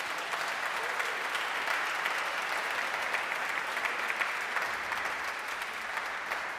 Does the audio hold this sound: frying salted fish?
no